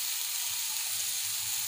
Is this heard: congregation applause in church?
no